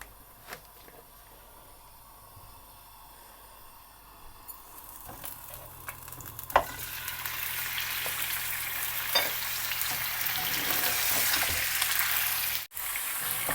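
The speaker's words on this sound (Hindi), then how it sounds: "घी जब अच्छी तरह मेल्ट हो जाए तो इसमें हम चिकन डाल देंगे।" Chicken pieces hitting hot melted ghee in a karahi, breaking into a loud, steady sizzle that builds and fills the background, with occasional stirring clatter.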